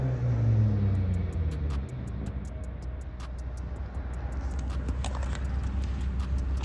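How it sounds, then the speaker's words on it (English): A car accelerates away, its engine note rising and fading into a rough rumble, while sharp intermittent clicks and knocks punctuate the sound and a muffled background hum persists. "The dude in the other car yells something back and then speeds off."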